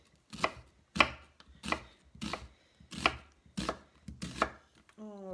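A knife slicing a peeled onion half into thin strips on a board, seven crisp, evenly spaced chops in a steady rhythm, close and clear, ending with a brief tonal squeak.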